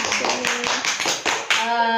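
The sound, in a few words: clapping for everyone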